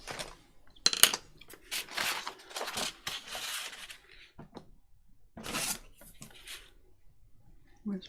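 Scissors snipping paper for a junk journal at a craft table, several short crisp cuts and rustles in bursts with pauses between, close and fairly quiet, without talk.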